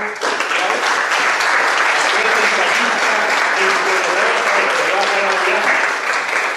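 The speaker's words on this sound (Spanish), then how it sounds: "quiero que le demos un sonoro aplauso a quienes presiden este acto conmemorativo" Loud, sustained applause from the audience at a novel's book presentation, thick continuous clapping that fills the room without letup, with voices faintly mixed underneath.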